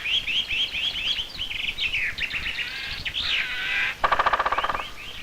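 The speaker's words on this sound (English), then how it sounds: "the woods are awakening, and the birds are beginning their spring songs" Several birds sing spring songs in woodland, with bright chirping phrases overlapping steadily, then a short burst of rapid, evenly spaced notes near the end; no talking.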